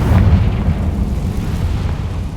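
Confringo spell explosion in Hogwarts Legacy, a loud low boom that opens the clip and rolls into a sustained rumbling decay.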